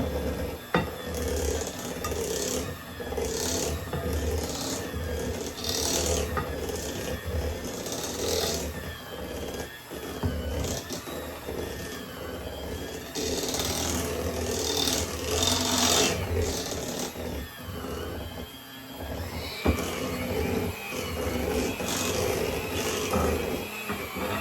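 An electric hand mixer beating batter in a bowl, a steady close motor whir with rattling beaters scraping the bowl, continuous and fairly loud throughout.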